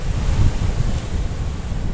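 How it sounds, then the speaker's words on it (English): Strong wind batters the microphone while waves surge and break against the Cape Greco cliffs on a choppy Mediterranean Sea, a loud, constant low roar with no talk. "The wind's battering us."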